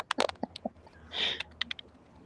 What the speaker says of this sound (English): Why are you typing so much?